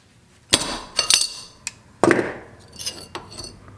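Bolted metal pieces of a custom forward-controls mount for a Honda Grom are taken apart, giving a few sharp metallic clanks and clinks spread over several seconds, close and fairly loud, with no talking.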